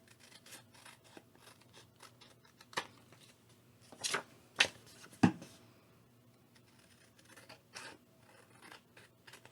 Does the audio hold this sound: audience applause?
no